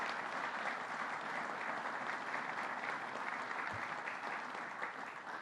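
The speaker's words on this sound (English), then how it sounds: "So you should all give yourselves a round of applause for being part of this" An audience at a state governor's funding announcement applauds steadily, a dense, even wash of clapping that fills the room without pause, fairly distant and uniform.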